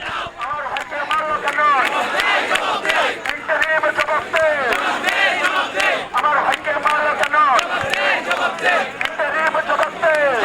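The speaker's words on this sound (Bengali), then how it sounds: "শিক্ষার্থীরা ঠিক পুলিশের সামনে এখনও একের পর এক স্লোগান দিচ্ছে" A dense crowd of students chants slogans in unison at a police barricade during a protest, loud and close, with repeated shouted phrases rising over a steady roar of many voices.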